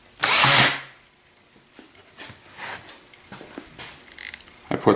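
A Craftsman 19.2-volt cordless drill on a low clutch setting whirs in one loud burst, then a run of sharp clicking ratchets and rattles as the clutch slips, with no talking.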